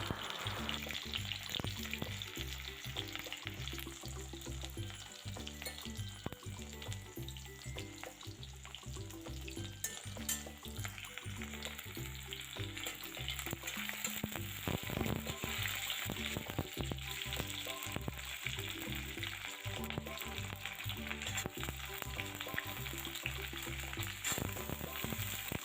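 Potatoes and drumsticks frying with onion in a hot kadai, a dense, steady sizzle with crackling that runs unbroken throughout, close and moderately loud.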